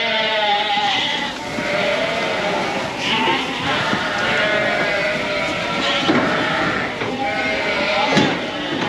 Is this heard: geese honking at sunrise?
no